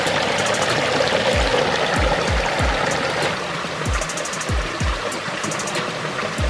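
A small, clear river in hilly country, giving a steady broadband rush of flowing water with soft low thumps scattered through it and no voices.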